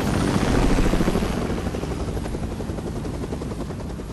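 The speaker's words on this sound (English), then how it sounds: "I'll shoot the helicopter down." A helicopter in the video game Fortnite whirs loudly and continuously, close by with a steady rotor chop and no talk over it.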